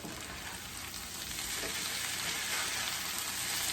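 Garlic is stirred into a skillet of sausage and hash browns over medium-high heat, producing a soft, steady sizzle that grows slightly as it cooks, with no talking.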